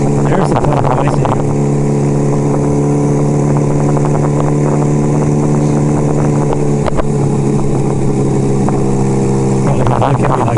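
A motorcycle cruises at about 35 mph on a snowy mountain road, its engine droning loud and close with steady harmonic hum, heavy wind buffeting and a couple of brief throttle swells, while a rider talks over it.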